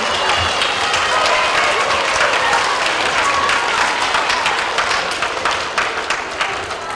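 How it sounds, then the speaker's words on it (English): Audience of young pupils and staff at a pre-K to third grade school assembly giving a sustained round of applause, dense at first and thinning into scattered individual claps toward the end. "Let's give a round of applause to Mrs. Carley."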